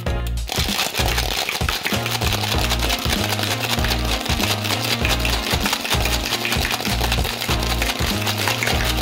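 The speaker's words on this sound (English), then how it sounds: "Add in ice. Give it a good shake." A cocktail shaker packed with ice is shaken hard while mixing a Corpse Reviver No. 2 with London dry gin; fast, even rattling and clacking of ice against metal keeps a steady rhythm, close and loud from start to finish with no talking.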